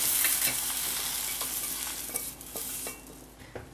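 Shaggy parasol mushrooms sizzling in a frying pan, a loud continuous hiss close up with light stirring taps that eases slightly near the end, with no talk.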